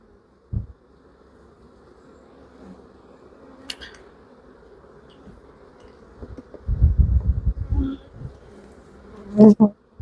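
Honeybees buzz steadily around hive frames that hold nectar, a close, constant drone with occasional louder swells and a few knocks and handling sounds.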